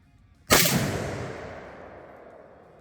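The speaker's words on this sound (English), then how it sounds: "Wow, that was a triple slam fire." A MAS-49/56 military surplus rifle slam-fires with a sudden, very loud, sharp report, followed by a long reverberating tail that fades over two seconds outdoors.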